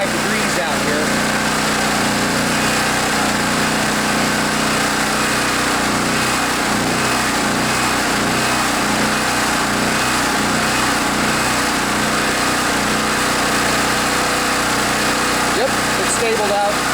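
A Generac Centurion 3250 portable generator runs on partial choke in cold weather, a loud, steady, slightly uneven engine drone held close throughout.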